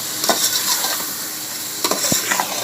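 Masala with turmeric, salt and coriander powder fries in a pan for a chicken and okra curry, a low sizzle broken by a few quick scrapes and stirs of a spoon against the metal, close by and without talk.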